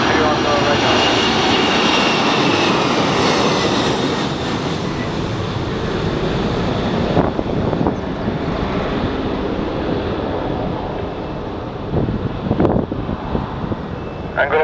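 A Boeing 767 cargo jet roars loudly on its takeoff run at SXM, a broad sustained engine rumble with wind buffeting the microphone, while radio traffic and voices come through underneath.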